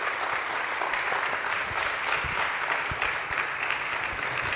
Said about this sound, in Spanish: nos toca despedir a Susana con un fuerte aplauso